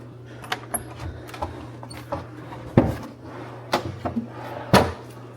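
Wooden drawers in a Disney resort villa bedroom slid open and shut, a series of sharp knocks and thuds with soft sliding scrapes in between, close and fairly loud.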